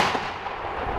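A heavy artillery shot booms in combat in the Serebryansky forest, Ukraine, a broad rumbling blast that fills the whole second, loud and close, with no voices.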